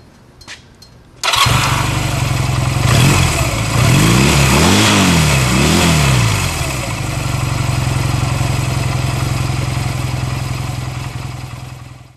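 A Honda Rebel 250 motorcycle engine fires up after a valve lash adjustment, revs through a few rising and falling blips, then settles into a steady idle, loud and close.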